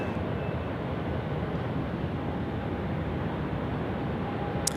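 A Japan Airlines airliner on final approach to Sydney Airport's runway 16 right gives a steady, broad jet roar that holds evenly from a moderate distance, with no talking.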